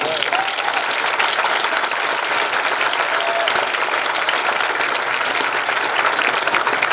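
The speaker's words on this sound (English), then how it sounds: "If you could please join me in a round of applause for our soon-to-be retired high school principal, Mrs. Mays." A high school graduation audience gives a sustained round of applause for a retiring principal, dense and even clapping filling the whole stretch at full loudness.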